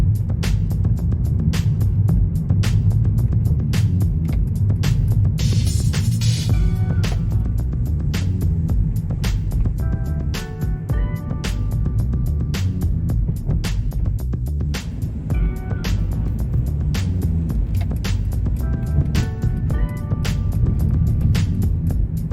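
Steady rumble of car traffic on a Hong Kong road near a tunnel entrance, heard from inside a moving vehicle, with continuous low engine and road noise and occasional brief clicks and tonal chimes over it.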